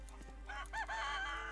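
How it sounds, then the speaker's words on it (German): A chicken in the video game Gothic 3 clucks in a quick run of short, nasal calls over about a second, faint and close against a low steady hum. "Noch ein Huhn."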